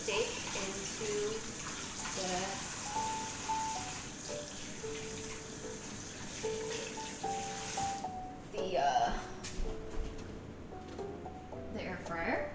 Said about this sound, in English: after I wash my hand